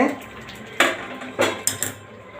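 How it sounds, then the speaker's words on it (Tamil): Green peas are poured into a cooking pan for a mutter paneer gravy, making three or four quick, close rattling clatters against the metal pan over a soft background hum. "இப்போ வந்து மட்டர் கொட்டிடணும்."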